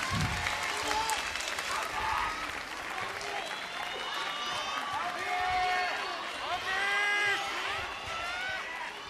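Fans at a Pro Wrestling NOAH tag-team match cheer and applaud in a big arena, a steady wash of clapping mixed with scattered shouts and whistles that carries on without a break.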